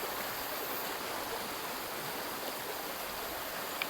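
River stream flowing steadily, a continuous broadband rush of water close to the microphone with no voices, one small tap near the end.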